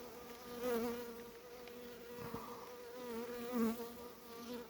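Honey bees buzz close by in a steady, wavering drone at an opened hive, the pitch rising and falling as individual insects move near and away.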